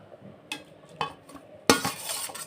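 Large-cut cauliflower pieces dropped into a pot of Gobindobhog rice khichuri, giving a few soft clinks and stirring knocks, then a louder clatter and scrape near the end, with no talk.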